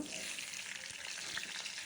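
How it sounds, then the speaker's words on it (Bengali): Okra fries in hot oil in a pan, a dense, even sizzle heard up close and steady throughout the short moment, with no voice over it. "এবার ঢ্যাঁড়সগুলো একটু তেলের ওপরে ভেজে নেব"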